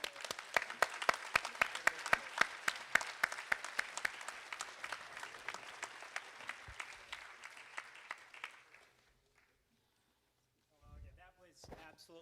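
An audience at a Silicon Valley Oxford Union-style debate claps for the debaters. Crisp, distinct hand claps ring out, then thin and fade into silence before a voice begins speaking near the end.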